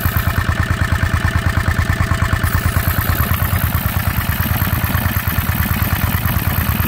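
A Yanmar F4 engine runs loud and close, its fast, even, chugging idle pulsing steadily throughout with a clattery mechanical edge.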